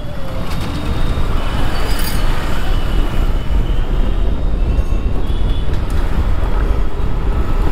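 Congested road traffic in Varanasi's Visheshwarganj area, a loud continuous rumble of engines and road noise close by, with faint horn-like tones over the steady din and no clear talk.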